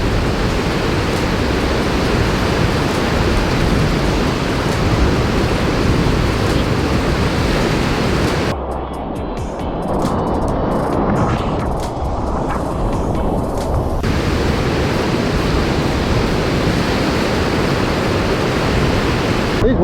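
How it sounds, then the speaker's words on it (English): Ocean waves crash and wash continuously onto the beach at Scarborough, a loud, dense roar of surf with no pauses, close and steady throughout. "These waves are awesome."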